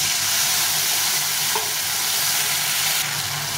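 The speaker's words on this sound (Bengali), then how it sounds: "এই মশলা ভাজা জলটা দিয়ে ভালো করে কষিয়ে দিই" Ground spice paste fries with water in a pan while being stirred, a dense, continuous sizzle with faint scraping, close and steady, with no talk.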